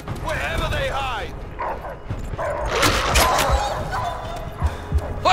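Attack dogs barking and yelping in the World War II shooter Call of Duty: World at War, loud bursts of barks mixed with battlefield noise and game voices.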